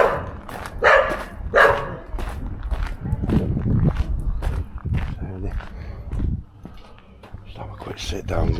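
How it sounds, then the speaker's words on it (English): A dog barks several times from inside a church, sharp and fairly close, while a person talks over it outdoors. "there's a doggy in there shouting at me"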